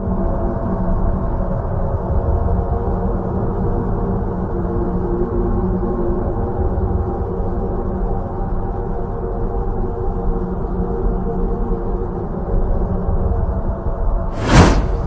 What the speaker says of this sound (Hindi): जुपिटर यानी बृहस्पति ग्रह की आवाज़।